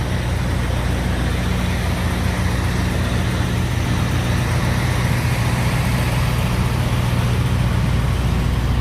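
A Prime Inc tractor-trailer rolling down the road, a loud, steady engine drone and broad road roar from inside the cab, unbroken and constant throughout.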